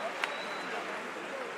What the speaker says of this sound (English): Let's give them a clap, ladies and gentlemen.